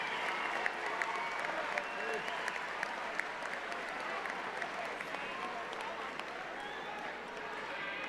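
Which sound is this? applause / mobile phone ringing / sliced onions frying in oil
applause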